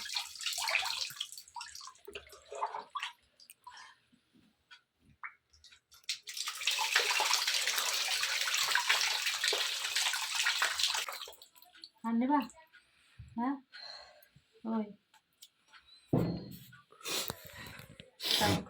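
Water is poured over a man's head during a wintertime bath at home, splashing loudly for several seconds, with quieter drips and a voice speaking before and after.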